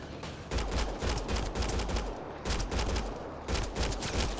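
Rapid bursts of gunfire from a shooter in Mass Effect Andromeda, aimed at enemy heads, come in loud repeated volleys with brief gaps between them, and no voice is heard over them.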